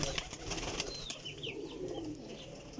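Teddy pigeons coo softly, with a faint flutter and a few short whistling calls over a rumbling outdoor background, fairly quiet and without speech.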